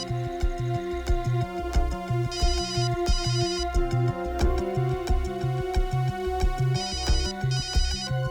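A telephone rings repeatedly in a steady pulsing pattern amid a dramatic crime-drama scene, loud and continuous throughout, with no voices over it.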